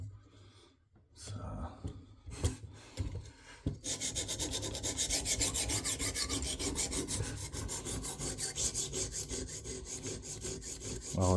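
A Bubba Blades filet knife is drawn across a KME sharpener stone, first in a few separate rasping strokes and then in a long, steady run of rapid scraping close up.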